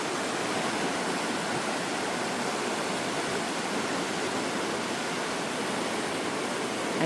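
A swollen river in Maine, running high, rushes past in a steady, dense, close roar with no breaks and no voices.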